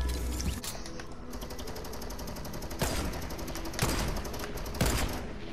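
Rapid bursts of automatic gunfire from a Fortnite match, several sustained volleys with sharp louder shots standing out, in-game effects with no talk.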